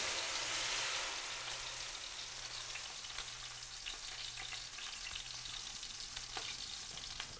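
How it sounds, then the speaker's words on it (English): Pomegranate juice simmers and reduces toward a syrup in a pan, giving a steady, close bubbling sizzle with a soft crackle that runs without a break under a faint low hum. "Just put pomegranate juice into a pan and reduce it."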